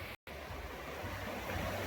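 Steady broadband rush of water pouring down at Huai Chan waterfall, a continuous roar heard nearby with a brief dropout near the start.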